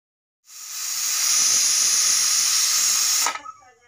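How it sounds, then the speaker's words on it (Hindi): A sharp, loud hissing pressure cooker whistle, cooking mixed dal, bursts out after a brief silence, holds steadily for nearly three seconds, then sputters and stops. "और इसमें 3 सीटी लगने देंगे।"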